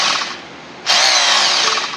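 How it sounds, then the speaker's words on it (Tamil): A 1600-watt heavy hammer drill runs loud and close in hammer drilling mode, a steady harsh whirring roar that briefly dips, then surges back to full power and holds. "இந்த சுவிட்சை ப்ரெஸ் பண்ணி நீங்கள் திருப்பினீங்கன்னா இது வந்து ஹேமர் ட்ரில்லிங்கு ஹேமர் ட்ரில்லிங்"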